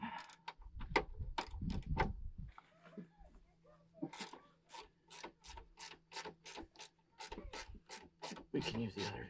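Mechanical ratcheting and metallic clicks from a 14 mm wrench loosening a bolt while replacing a Timbren Aeon suspension spring, with bursts of rhythmic clicking close to the microphone.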